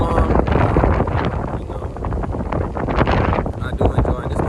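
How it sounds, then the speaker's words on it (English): Cold wind gusts outdoors and buffets the microphone with a rough, rumbling roar throughout, while a person talks over it. "It's windy and cold"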